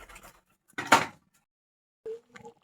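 A lid clanks down over a cooking pot of jackfruit curry: one brief rattling clatter, then a short ringing metallic clink a moment later, close and alone.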